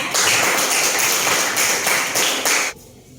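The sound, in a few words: classroom applause, students clapping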